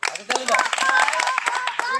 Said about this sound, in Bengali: তোমরা হাতে তালি দাও